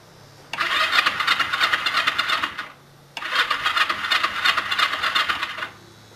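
A Honda CB125TT motorcycle with chopped exhaust pipes is cranked to start twice, each attempt a loud, steady churning whir lasting over two seconds, separated by a short quiet gap, close by.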